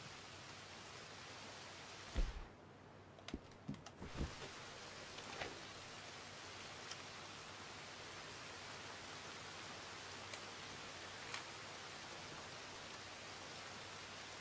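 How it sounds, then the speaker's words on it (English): Steady soft rain hiss in Red Dead Redemption 2 fills the scene, heard from a roof, with a few brief clicks and thumps near the start, no voices. "Now it's raining"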